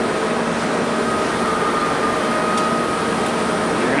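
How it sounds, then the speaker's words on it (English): A rotary screw air compressor runs with a loud, constant mechanical drone and hiss, unchanging throughout, with no voices. "we have our special rotary screw compressor going for the paint"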